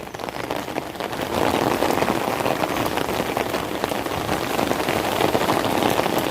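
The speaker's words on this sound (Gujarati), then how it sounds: "વધ્યો ગાઈઝ વરસાદ વધ્યો" Heavy rain pouring steadily outdoors near a temple fair, a dense, loud hiss of drops drumming on surfaces that swells after the first second and stays constant, with no voices.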